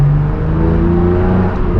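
A straight-piped BMW M4 G82 accelerating on the road, its loud, close exhaust droning and rising in a harmonic-rich roar throughout a brief burst with no talking.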